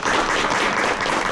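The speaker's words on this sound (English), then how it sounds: "Round of applause for our panelists." Brief burst of audience applause for panelists after a caregiving documentary screening, a dense, even patter of many hands clapping at close range with no pause.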